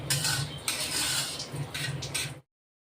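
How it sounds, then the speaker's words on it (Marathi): Semolina roasts in ghee in a kadai over a low flame while a spoon scrapes and clinks against the pan in busy, continuous strokes, then everything stops abruptly. "स्लो गॅसवरच आपण रवा भाजतोय."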